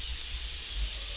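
A home pressure cooker lets off a loud, steady rush of steam hiss that fills the whole short moment without a break.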